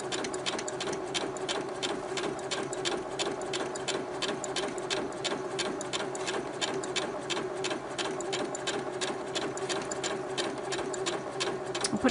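A sewing machine runs steadily through three layers of fabric, its needle ticking in a fast, even rhythm close by for the whole stretch, with no talking.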